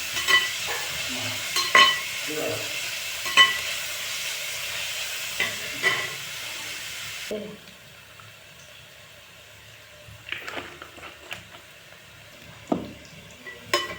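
Beef browning in a pan for a home-style Kerala dish sizzles and hisses steadily while a spoon stirs and scrapes it in occasional clanks; the sizzle drops noticeably quieter halfway through, leaving sparser scraping.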